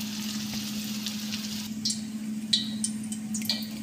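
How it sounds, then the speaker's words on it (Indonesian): Vegetables sizzle and crackle in a hot pan while being stir-fried for a simple home lunch, a steady frying hiss with scattered pops and light clinks of a utensil against the pan. "saya nak tumis sayur"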